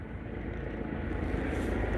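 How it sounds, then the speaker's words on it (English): A helicopter flies overhead outdoors, its steady low rotor drone and broadband engine rumble holding constant and fairly loud throughout, with no talk. "No, that's a helicopter. That time it's a helicopter."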